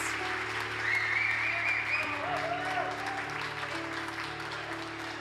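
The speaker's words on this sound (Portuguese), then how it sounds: "E se você crê, aplauda Ele bem forte" A church congregation claps steadily during a worship service, a dense, continuous patter of many hands that holds at an even level. Sustained keyboard or organ tones and a faint voice carry underneath.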